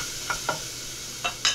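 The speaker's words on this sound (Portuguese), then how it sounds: "mais um pouco de alho. Tem um pouquinho de sal aqui dentro. Já colocar pra fritar." Garlic and salt frying in a pan over a wood-fired stove, with four short crackling sizzle bursts and stirring scrapes, close and moderately loud over a steady low hiss, no voices.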